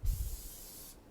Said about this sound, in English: we're going to grease the pan with a little bit of spray